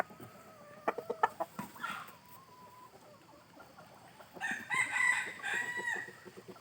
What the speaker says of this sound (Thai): ไก่นุ่มๆก็มีอยู่หลายตัวครับสี่ห้าตัวชุดนี้นะครับ